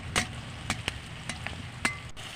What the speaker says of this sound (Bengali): তারপর ডাল দিয়ে পেঁয়াজ দিল আর নাড়ালো নাড়ালো নাড়ালো